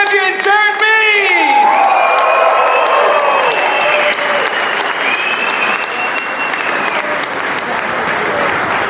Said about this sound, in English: Please give it up and give a round of applause, please